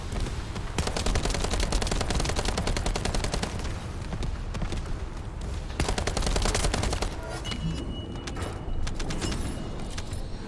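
Assault rifle gunfire in a video game: long rapid automatic bursts, loud and nearly continuous throughout, with short pauses between strings of shots and no voices.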